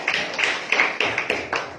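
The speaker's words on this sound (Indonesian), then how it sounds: "berikan tepuk tangan bagi kita" Audience clapping during a church service, an even rhythm of close, sharp claps with a few hands beating together in time, not a large ovation.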